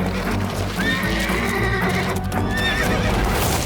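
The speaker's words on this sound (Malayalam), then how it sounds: "ഇത് സ്വതന്ത്രമായ കാട്ടുകുതിരയാണ്" A black wild horse whinnies loudly and clearly, its shrill neigh rising and falling close by in an outdoor setting, with faint hoof clip-clops beneath and no talking.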